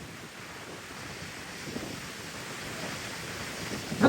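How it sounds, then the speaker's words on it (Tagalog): Strong gusts buffet the microphone over rolling surf on a beach during a storm, a steady roaring wash that swells toward the end, with no talking. "Grabe, lakas ng hangin."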